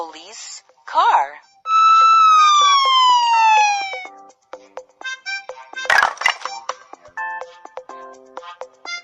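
A toy puzzle's electronic police car siren plays a rising and falling wail, preceded by short beeps and followed by a voice and scattered clicks.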